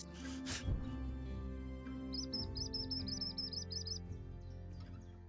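A bird in the video game Wingspan gives a short run of bright, high chirps over a steady game background with musical tones.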